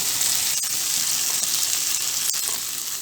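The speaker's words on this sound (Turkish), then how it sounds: "Ben 2-3 dakika daha kavuracağım." Rice sautéing in a pan for Turkish tomato pilaf, a close, steady bright hiss of frying with a couple of faint stirring knocks and no talking.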